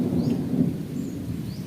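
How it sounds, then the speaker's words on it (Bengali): Thunder rumbling before rain on a hot afternoon in Durgapur, a steady low continuous roll, distant and moderately loud, with no voices. "মেঘ ডাকছে"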